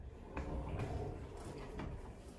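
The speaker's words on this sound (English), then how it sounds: "Door closes." A wooden sliding barn door rolls along its track and closes, a soft rumbling slide with a couple of muted knocks as it settles, fairly quiet against room noise.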